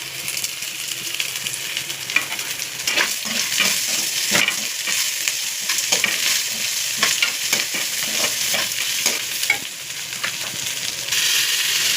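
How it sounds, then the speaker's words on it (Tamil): Garlic, ginger, onion, mustard seeds and curry leaves sauté in a pan for a potato curry, giving a steady close sizzle with frequent scraping stir strokes throughout, no voices. "கருவேப்பிலை நல்லா வதக்கிக்கோங்க."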